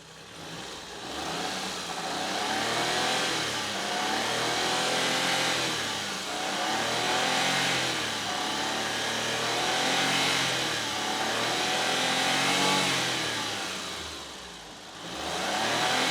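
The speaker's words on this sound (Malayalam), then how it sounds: "ഇത് ജസ്റ്റ് ഇപ്പം വണ്ടി സ്റ്റാർട്ട് ചെയ്തേ ഉള്ളൂ" A car engine runs just after a cold start, a close, continuous mid-pitched hum that swells and eases in slow waves of revving, with no talking over it.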